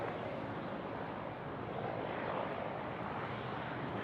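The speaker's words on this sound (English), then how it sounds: "The A380 now finals runway 34 left." Airbus A380 on final approach to runway 34 left at Sydney Airport, a steady broadband jet roar holding at a constant level throughout, distant and unbroken, with no voices.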